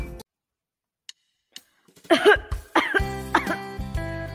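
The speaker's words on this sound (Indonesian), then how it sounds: "kalian batuk-batuk ya?" A short burst of several harsh coughs, close and fairly loud, after a near-silent stretch with a few faint clicks.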